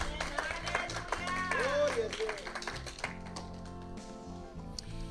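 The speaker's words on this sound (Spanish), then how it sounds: "Dele un aplauso a nuestro Dios" A church congregation claps for God, a dense patter of hands under music and a voice speaking over it, fading toward the end.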